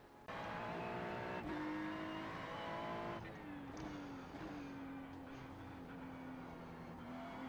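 Race car engine in a GT3 racing video game roars loud and steady throughout, pitch shifting as the car brakes and accelerates, with a high whine sustained over the engine drone.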